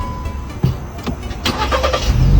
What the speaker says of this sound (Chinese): 踩刹车，挂 P 档了，打火，看见没？ 一把着。